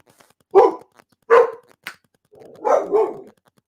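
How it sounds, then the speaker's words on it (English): A dog barks several times in short, loud bursts, then lets out a longer, rougher volley of barks, close by with quiet gaps between. "I'm sorry about the barking."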